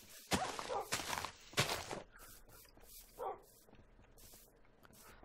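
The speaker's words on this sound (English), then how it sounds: "Shh, dogs, you're giving us away." Dogs in the Minecraft game bark in a few sharp, close bursts, followed by softer yips and scuffling movement sounds, with no talk over them.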